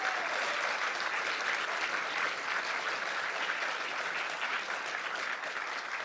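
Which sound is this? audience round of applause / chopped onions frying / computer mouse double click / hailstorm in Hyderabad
audience round of applause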